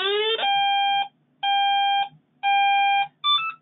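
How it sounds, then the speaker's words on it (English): A G7c safety monitoring device sounds a warning alarm during bump testing and calibration: a rising chirp, then three steady electronic tones with pauses and a brief final tone, loud and close with no talk. "That was a warning alarm"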